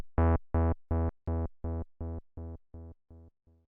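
A TAL Bassline synth patch, transposed high with portamento off, plays ten evenly spaced, buzzy repeats of one note, each fading a little more as a square LFO fakes a delay echo, clean and alone.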